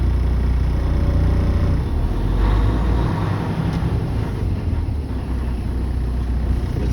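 A training truck is shifted into drive and creeps forward at walking pace, giving a low steady engine rumble with rough wind-like noise through the cab and no talk over it.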